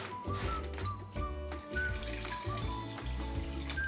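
Broth pours into a soup pot of carrots and coconut milk for carrot ginger soup, a steady running, watery splash that lasts the whole moment over a faint tonal background, with no talking.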